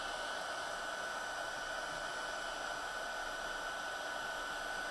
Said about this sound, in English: I usually hang on to my card and go down about halfway with my heat gun